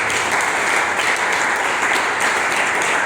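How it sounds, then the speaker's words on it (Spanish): A congregation claps steadily at a church sermon, a dense, even wash of applause holding at full strength for about three seconds. "Den ese aplauso al Rey de los Reyes"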